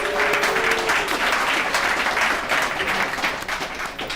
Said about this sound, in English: let's give Oscar another round of applause.